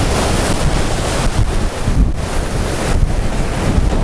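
Storm waves on the sea at Simeiz, Crimea, crashing and roaring continuously and loudly, with heavy wind buffeting the microphone throughout.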